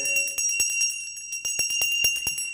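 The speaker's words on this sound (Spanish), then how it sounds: "¿De dónde creen que agarré yo esto de tocar la campana?" A hand bell is rung repeatedly in quick, uneven strokes, each bright metallic clang ringing on with sustained overtones, close and loud with no voices.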